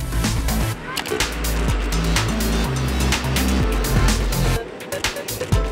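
A Renault Clio V6 engine accelerates hard, its rising pitch stepping up through several gear changes, loud and close with cabin rumble and a strong low drone underneath.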